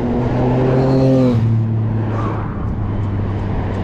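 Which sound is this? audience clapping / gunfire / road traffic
road traffic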